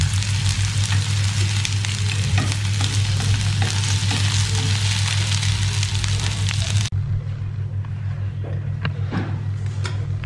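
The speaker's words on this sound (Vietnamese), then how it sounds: "Thế là chiên xong ít chuối bắc lên bếp." Bananas frying in a pan, a dense loud sizzle and crackle with low stove hum, which suddenly drops to a quieter sizzle with occasional clinks partway through.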